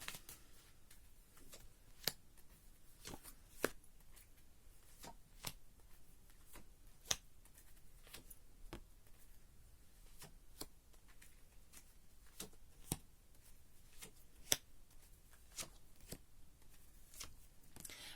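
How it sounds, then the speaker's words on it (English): Tarot cards being shuffled by hand during a weekly reading, giving a steady run of soft riffling with sharp card snaps and taps scattered throughout, close and fairly quiet, with no talking. "So I'm gonna pull the cards right now."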